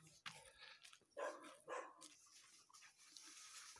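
A city-type dog barks in a village in two or three loud close bursts, with a quieter hissing background between them and no talk.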